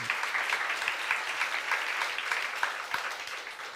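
A church congregation applauds during a youth-service sermon, with steady, dense clapping of many hands that carries evenly from start to finish at moderate loudness.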